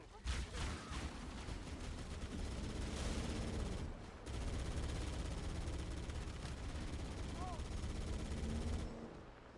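Covering gunfire in Halo, a dense, steady stream of shots and bursts that runs through most of the stretch with a brief lull, fairly faint and mixed with game effects.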